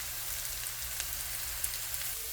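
Carrots frying with garlic in a hot pan for fried rice give a steady, close sizzle with faint crackles and no talking.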